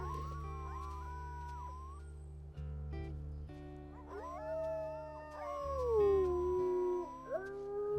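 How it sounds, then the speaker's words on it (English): Coyotes howling in the wolf video game WolfQuest, a series of long wavering howls and yips rising and falling over a steady low ambient hum, several overlapping cries near the end. "I think those are coyotes."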